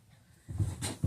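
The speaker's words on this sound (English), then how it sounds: "Sorry, I have very annoying dogs." Dogs at home give a brief whimper and a couple of soft, close, breathy vocal bursts in an otherwise quiet room.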